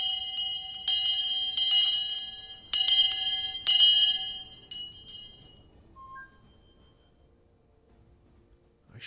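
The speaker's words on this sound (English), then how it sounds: "I ring the bell of shame." A single bell in an 8v8 strategy game rings out loudly in several sharp strikes over a few seconds, each ringing tone decaying before fading into silence, with no voices.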